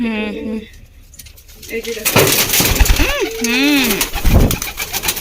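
A flock of pigeons coo in soft, rolling calls close by, mixed with voices talking and some clattering in the background.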